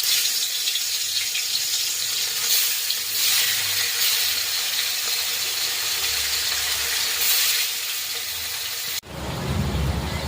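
Small prawns frying in hot oil on a home stove, a steady bright sizzle and hiss that runs continuously, then cuts off abruptly near the end into a duller, lower rumble.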